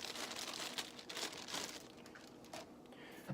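A paper cake mix bag is cut across and tipped so the dry mix pours out into a mixing bowl, giving a steady close crinkling and rustling with a few sharper crackles and no talk.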